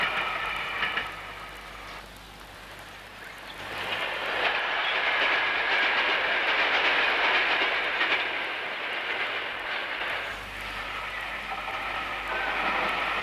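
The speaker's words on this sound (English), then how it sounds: "Watching the holiday trains go by" A train rumbles past with a steady roar and rhythmic clatter of wheels on rails, swelling louder midway then easing off before another passage builds.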